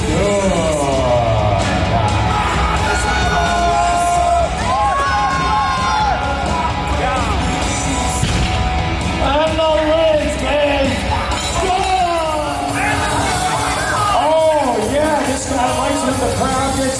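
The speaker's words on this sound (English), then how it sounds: "The crowd gets loud, ladies and gentlemen." A crowd at a powerlifting meet cheers loudly and without a break, a roaring mass of yells, whoops and shouting voices close around the listener.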